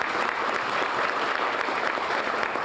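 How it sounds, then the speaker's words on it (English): A crowd at a charity event applauds its sponsors and donors with steady, dense clapping that holds evenly at a moderate distance throughout, with no voices over it. "Please give them a round of applause."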